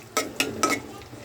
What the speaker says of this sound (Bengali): অন্য একটা চুলা রসুন কুচি দিয়ে তেল দিলাম